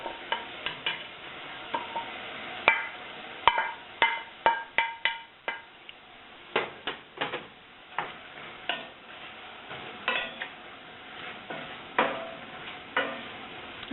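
Peppers hit a hot pan for kale soup, giving a steady sizzle broken by repeated sharp clatters and scrapes of stirring, close and moderately loud with no voices.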